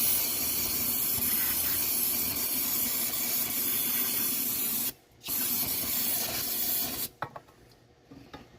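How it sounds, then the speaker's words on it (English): Brake cleaner blasts through a precision nozzle in a long continuous hissing spray, cut by a brief pause near the middle, then a final short burst and a few faint shop sounds. "Probably need more brake clean. Using the precision nozzle."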